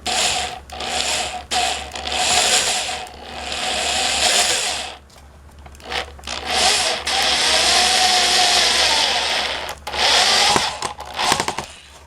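A power drill drives self-tapping screws without pilot holes into a wooden rabbit nesting box, loud whirring bursts that stop and start in short runs with brief pauses between screws.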